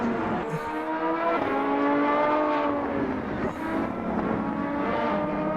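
An LMP2 prototype race car in a racing video game screams past, its high-revving engine loud and steady with shifting pitch as it passes, no voices over it.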